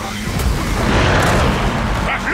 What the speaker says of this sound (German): Der Hammer der Morgenröte im Einsatz!